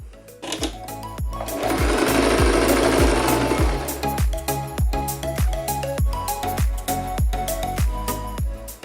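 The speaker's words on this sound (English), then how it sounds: "sew a straight stitch all around this opening" Sewing machine running a loose straight stitch around a skirt opening, a steady fast mechanical chatter in bursts with rhythmic needle thumps, close and loud.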